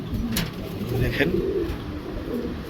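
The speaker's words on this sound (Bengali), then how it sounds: "একেবারে চমৎকার একটা নর কবুতর" A male pigeon coos in soft, low, rolling calls close by while someone talks over it.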